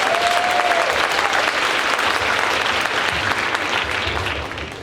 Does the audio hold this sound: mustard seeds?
no